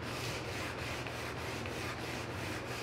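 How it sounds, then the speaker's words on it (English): Sanding finish off wet corners of a wooden countertop, a close, continuous scratchy rubbing with a quick regular back-and-forth rhythm, faint overall and heard alone. "I definitely had some wet corners there, so again, we're kind of sanding off."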